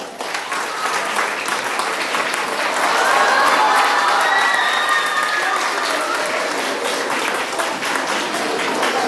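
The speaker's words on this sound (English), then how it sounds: "Can we have a huge round of applause?" An audience at an Independence Day celebration for a nursing institute breaks into a big round of applause with some cheering for a newly unveiled logo, sustained crowd clapping swelling in the middle, with voices mixed in.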